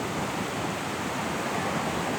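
A huge waterfall with a tall plume of spray, heard as a steady, even roar of rushing water, constant and dense throughout with no talking.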